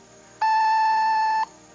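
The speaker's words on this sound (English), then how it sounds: "wait for that annoying beep that bores through your brain like the sound of a dentist drill." An answering machine gives a single steady electronic beep for about a second, sharp and piercing against quiet background hiss.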